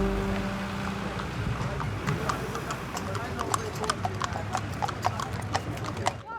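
Horses clip-clopping on a road at Appleby Horse Fair in Cumbria, a steady stream of sharp hoof strikes over a busy outdoor hum, with people talking in the background.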